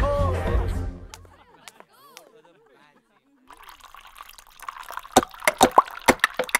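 Water pours from a new Aquaguard purifier with a toughened glass front, splashing and dripping into a glass in a series of close, distinct drops. A voice is heard at the start over a soft chime.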